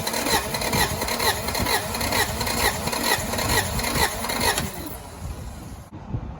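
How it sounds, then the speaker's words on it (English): An early-1990s Acura Integra engine spins on its starter during a compression test, a steady rhythmic cranking churn that runs for several seconds close up, then cuts off abruptly near the end. "That's what the starter is grabbing and spinning the crank with."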